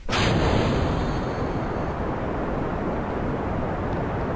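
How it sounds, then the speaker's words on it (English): A rocket engine launch in Kerbal Space Program: a loud, continuous roaring rush of broadband noise begins abruptly and holds steady throughout, like a powerful engine blasting at close range. "I have adjusted the mic so that way I'm louder than the rocket noise"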